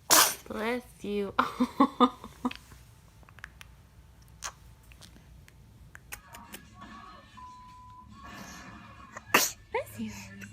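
A baby sneezes several times amid adults' cheerful chatter and cooing, the small sharp bursts standing out near the start and again near the end.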